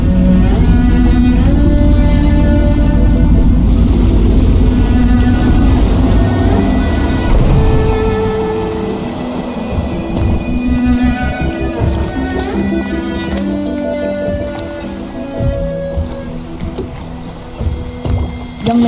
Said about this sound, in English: Oh, I should concentrate on piloting this boat.